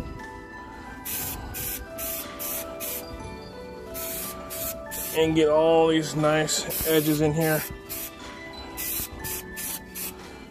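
Short bursts of hissing spray from a spray adhesive can repeat in quick succession, close by, in a car interior, while someone talks over part of it.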